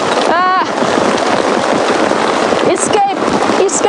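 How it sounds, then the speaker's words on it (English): Heavy rain drums loudly and steadily on a vehicle during a rained-out morning safari drive at Djuma Game Reserve. Voices cry out briefly a couple of times over the downpour. "This is not a drizzle."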